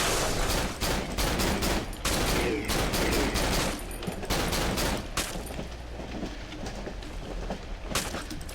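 Assault rifle gunfire in the horror video game Cry of Fear: loud bursts of rapid automatic shots in dense clusters, easing off toward the end with a few scattered shots.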